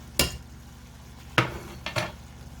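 A spoon stirs tomato paste into turkey sloppy joe in a pan, striking the metal in three sharp, separate clinks over a quiet background.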